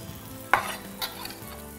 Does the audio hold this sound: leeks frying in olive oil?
yes